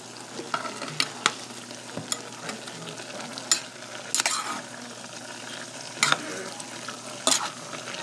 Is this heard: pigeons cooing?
no